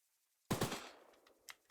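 Gunfire from the weapon mounted on a train in the Choo Choo Charles video game: a sudden loud burst of rapid shots that decays into a rumbling tail, with a few fainter cracks near the end.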